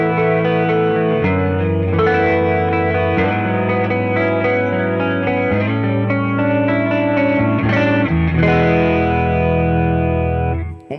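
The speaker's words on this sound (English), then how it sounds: "Was that the chorus?" An electric guitar runs through the chorus effect of a Neural DSP Quad Cortex modeler, with chords and notes shimmering and wavering under a slightly driven tone and some reverb, played steadily and loud without talk.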